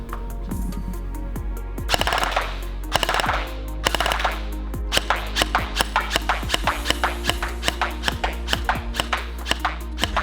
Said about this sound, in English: show you this blaster shooting through the chrono